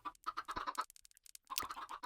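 Chickens, including chicks near an adult hen, clucking and peeping in quick irregular bursts with a brief lull midway, fairly close and with no talk.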